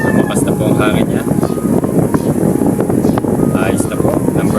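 Close, loud rushing air from an electric wall fan on speed setting 2 blows continuously, a rough wind-like roar buffeting the microphone throughout.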